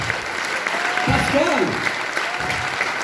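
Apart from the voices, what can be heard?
audience applauding the musicians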